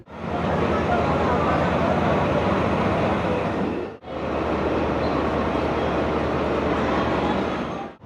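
A Hanoi metro train passing near Long Bien station, a steady loud rumble filling the whole stretch, with a brief break midway before the roar resumes.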